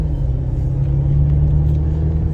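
A Maserati Quattroporte engine idles in comfort mode, a low, steady, even hum that holds without revving for a couple of seconds.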